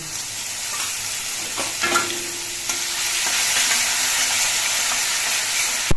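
Fennel paste added to hot oil with dry chili, bay leaf and fenugreek, a continuous close frying sizzle that swells slightly, with a few spatula scrapes and a knock at the end.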